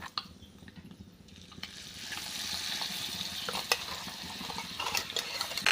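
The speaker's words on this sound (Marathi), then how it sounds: "आता आपल्याला परतून घ्यायचं आहे" Ground spice paste with turmeric sautéed in a pan, a steady close sizzle with stirring scrapes that swells after the first moments and holds under occasional clinks, no one talking.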